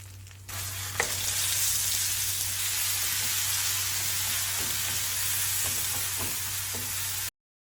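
Dried chilies, curry leaves and ground masala frying in hot sesame oil, a steady bright sizzle with a brief spatter at the start and a few soft stirring scrapes, close and continuous.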